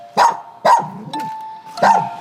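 Dogs kept at an illegal-breeding dog cafe bark in three loud, close bursts spaced under a second apart, with a steady tonal hum running between them.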